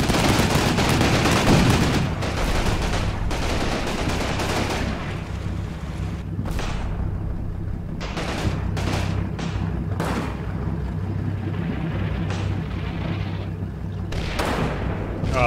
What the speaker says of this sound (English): Ah, my artillery is finally landing.